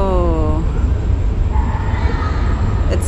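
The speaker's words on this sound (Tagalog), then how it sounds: "Ito yung pinaka tunnel train, U-Bahn yung pangalan." A German U-Bahn subway train runs through a tunnel with a loud, continuous low rumble that fills the whole span, a brief voice at the very beginning and a short high squeal at the end.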